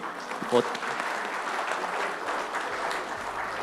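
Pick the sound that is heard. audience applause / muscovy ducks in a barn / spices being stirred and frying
audience applause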